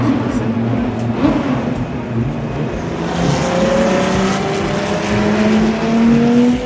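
Historic race cars roar past on the track at the 24 Hours of Le Mans, engines droning and rising in pitch as several pass in succession amid background crowd and commentary voices.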